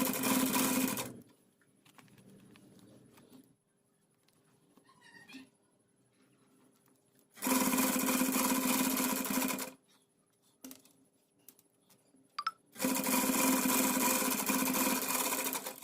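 A sewing machine stitches lace onto a stand collar in three loud, steady bursts of whirring, separated by quiet gaps filled with faint handling, rustling and clicks; a cat meows in the background.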